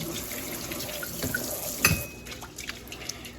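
Rice is washed in water under a running tap, with steady close splashing and sloshing, a brief louder splash midway, and soft trickling afterward.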